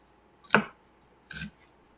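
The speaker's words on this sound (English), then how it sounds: "Now he's just going to go ahead and chop some of these onions in." Two crisp knife chops through onions on a cutting board, close and clear, spaced under a second apart against a quiet background.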